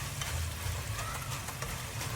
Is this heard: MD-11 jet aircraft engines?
no